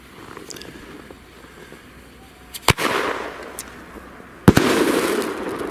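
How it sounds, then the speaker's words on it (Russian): A Feeria Cappuccino firework battery of 1.25-inch shots fires on thick ice: two sharp loud bangs, each followed by a crackling, hissing burst that trails off. "Фейерверк капучино от Феерии."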